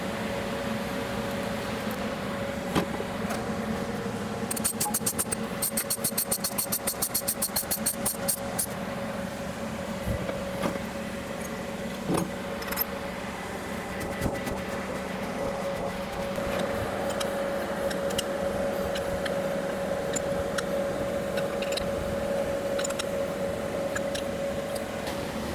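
A Kearney & Trecker Model 2H horizontal milling machine runs steadily with a constant mechanical hum and whine, irregular ticks and clatter, and a brief burst of rapid high clicking partway through.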